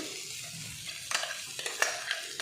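Coarsely ground peas sautéing in oil on a tava for a matar nimona, a soft steady sizzle with a few sharper stirring scrapes near the end, close and fairly quiet.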